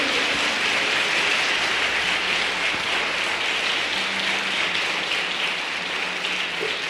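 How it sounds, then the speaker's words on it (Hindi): A church congregation applauding loudly, a dense, steady roar of clapping that fills the whole stretch without pause, close and full with no voices over it. "आइए उस पहलोठे के लिए जोरदार ताली बजाएं।"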